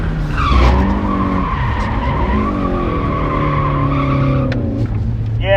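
A mid-engine car drifting on a track lets out a loud continuous tire squeal with wavering pitch over the revving engine, the squeal bending up and down as the slide changes and ending with a short burst near the end.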